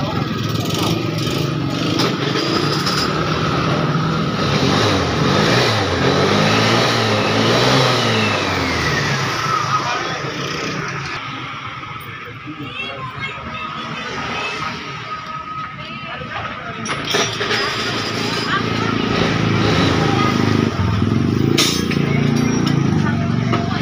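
Vespa Piaggio Zip 100cc scooter engine test-run in a workshop, its two-stroke motor revving up and settling back down in waves over the whole stretch, with someone speaking throughout.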